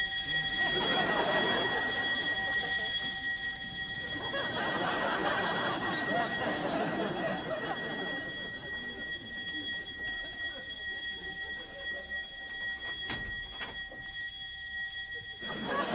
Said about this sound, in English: the alarm's been stuck on for 3 hours